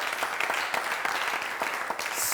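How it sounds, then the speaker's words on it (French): Theatre audience applauding actress Augusta Palenfo's stage career, a dense patter of many hands clapping together, fairly close and steady for a couple of seconds, with a slight swell at the end. "Je demande qu'on applaudisse ça déjà."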